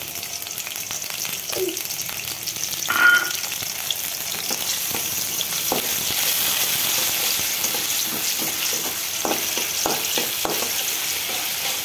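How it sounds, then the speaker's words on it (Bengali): Garlic and a little ginger fry in hot soybean oil. A steady, close sizzle runs throughout, with occasional scrapes and clinks of stirring. "তেলে আমরা দিয়ে দিব 1 টেবিল চামচ রসুন, সামান্য পরিমাণ আদা"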